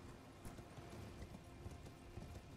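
Horse galloping in Elden Ring, a rhythmic clip-clop of hooves at a quiet level over a faint game ambience.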